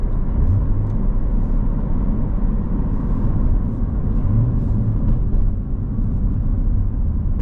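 A manual Chevrolet Corvette C7 Z51 drives out with a steady, loud low engine rumble and road noise throughout, no voices.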